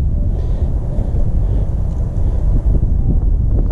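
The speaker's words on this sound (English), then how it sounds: "And as you can see, the car starts easily." A 1981 Fiat Spider Anniversary Edition resto-mod with performance cams runs close by, a steady low rumbling idle that holds evenly throughout, dominated by wind-like roar.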